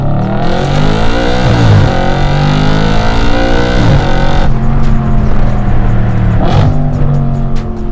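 An Audi RS5 4.2 FSI V8 engine revs hard toward 8,500 RPM, climbing through gears with a loud, continuous roar that surges and drops between shifts.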